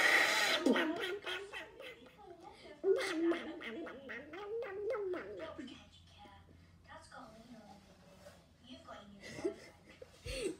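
A voice imitates Donald Duck, with a long run of raspy, squawking quacks and chortles, close and fairly loud, fading into breathy sputters.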